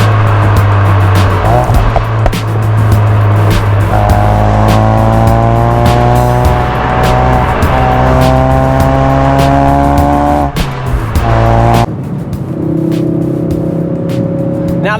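A hot hatch car corners hard on a racetrack, its loud engine rising through the gears in close onboard sound, with tires squealing through the bend before the engine note drops and climbs again.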